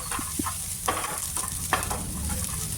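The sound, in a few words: sautéing ginger-coriander paste in a pan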